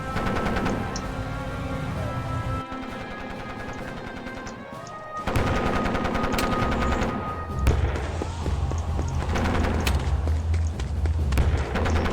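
Gunfire from units attacking a heavy tank in the War of Dots strategy game, heard as dense, continuous rapid game shots and impacts over steady music-like tones, loud throughout with a brief lull near the middle.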